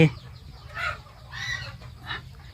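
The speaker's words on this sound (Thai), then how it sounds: "อันนี้เป็นไก่" Chickens on a farm that also keeps ducks cluck in short bursts over a low steady hum, moderately close, with a brief crowing note at the start.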